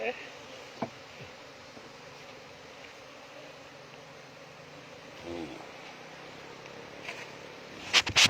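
A steady honeybee buzz hums throughout around a wild nest being tied up and boxed, fairly close, with a few brief knocks and a louder scrape near the end.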